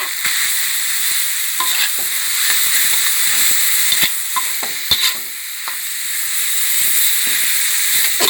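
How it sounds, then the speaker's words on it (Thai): Bonito fish and red holy basil stir-fried in a hot pan, a steady loud sizzle broken by frequent scraping clicks of the spatula, with no talking. "ผัดผัดให้เข้ากันเลยนะคะให้แห้งเลยค่ะ"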